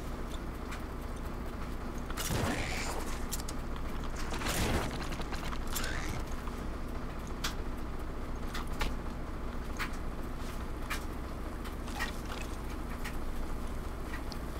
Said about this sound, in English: So you can probably hear the washer and dryer going behind me.